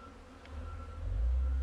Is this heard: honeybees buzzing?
yes